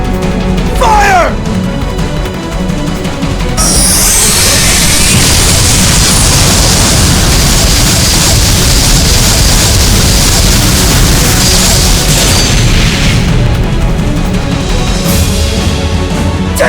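Weapons firing and exploding in the fighting game Guilty Gear Xrd, a loud, sustained roar of blasts and bursts that swells after a brief opening and holds for over ten seconds, with voices briefly over it.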